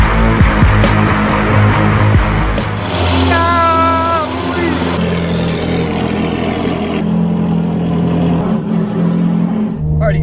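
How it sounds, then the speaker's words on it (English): A Ferrari F430 engine cold-starts and revs loudly, settling into a rough, high idle with a brief rising whine, recorded close up. "let's get a cold start"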